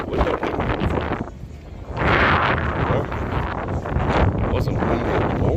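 Outdoor wind buffeting a microphone on a Las Vegas street at night, loud rumbling gusts that rise and fall continuously, with no speech.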